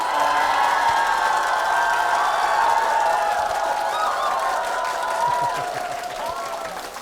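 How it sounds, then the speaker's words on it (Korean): A church congregation at Bundang Gippeun Uri Church gives warm applause with scattered cheers and whoops, a full sustained roar of clapping that holds steady before easing slightly at the end. "뜨거운 사랑의 박수와 함께 시작을 했습니다."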